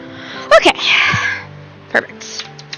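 A single sharp sneeze bursts out close by, followed by a short breathy tail and a brief second catch.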